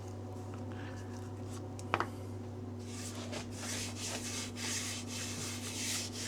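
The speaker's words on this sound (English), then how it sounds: "I'll be turning the lathe on for about 30 minutes and just kind of sanding with the paste" Rhythmic rubbing and scratching of sandpaper and paste against a wooden salad bowl spinning on a lathe, steady and close, over the constant hum of the running machine.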